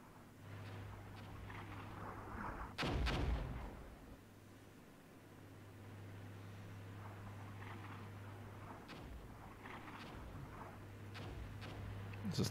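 Artillery and tank fire in the Armored Brigade war strategy game, with one heavy booming blast early on and further distant thumps over a low, constant rumble.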